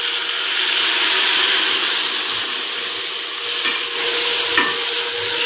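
Onions and garlic frying in a pan for a desi tadka, a loud, steady close sizzle and hiss throughout with faint occasional scrapes of a spoon.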